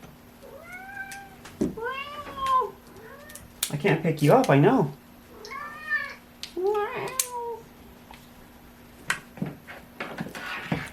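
A house cat meows several times indoors near a battery-building workbench, the calls rising and falling between bursts of rustling and handling noise while a person talks to it.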